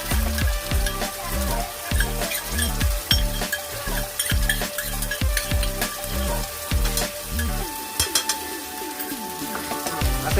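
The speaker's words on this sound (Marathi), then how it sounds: "आता ही टाकली पेस्ट. आता ह्याला पण परतून घ्यायचं थोडं" Ginger-garlic paste sizzles in a hot pan for chicken curry, a steady crackling fry with repeated low scraping stirs, close and fairly loud with no one speaking.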